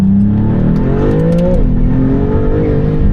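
Maserati GT2 Stradale engine pulling hard under acceleration, a loud, close, continuous roar rising in pitch and then dipping briefly as it shifts before climbing again.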